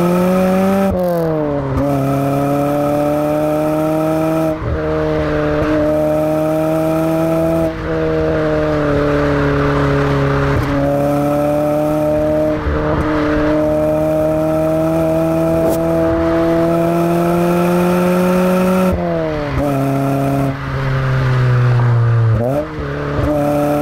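A 1988 Honda Prelude 2.0i with four-wheel steering driven hard, its four-cylinder engine loud and close as it revs up through gears, with repeated shifts and brief dips between pulls, and occasional tire noise.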